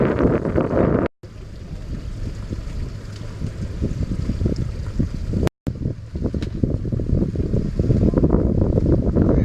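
Strong wind sweeps across Pomme de Terre Lake during pontoon trolling for walleye, buffeting the microphone with loud, gusty rumbling and a steady roar, briefly cutting out twice.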